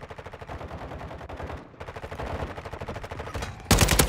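Rapid automatic gunfire from Call of Duty: Modern Warfare II Warzone rattles in dense, continuous bursts, with a brief gap midway and a louder, harsher burst at the very end.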